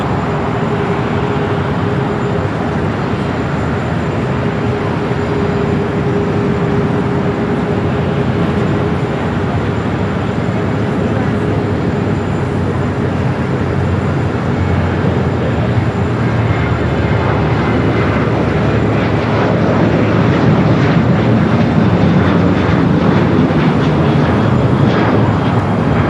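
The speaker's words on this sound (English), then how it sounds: "this might be our last takeoff of the stream here tonight" A jet airliner takes off from Los Angeles LAX bound for London, a steady, loud broadband engine roar that holds for the whole stretch and swells slightly toward the end, with no talk over it.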